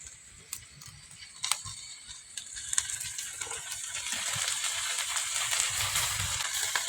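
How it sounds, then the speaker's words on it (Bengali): Oil sprinkled over Malabar spinach leaves cooked with fish oil, giving a steady soft sizzle with scattered ticks and pops that swells gradually louder over several seconds, with no talking. "অল্প তেল ছড়িয়ে দিচ্ছি উপর থেকে"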